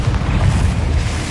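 Confringo spell blast in the video game Hogwarts Legacy, a loud, dense, rumbling explosion that fills the moment with heavy low boom and rushing noise, close and sustained for over a second.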